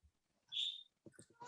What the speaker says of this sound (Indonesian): Iya, bunyi kayak suara burung.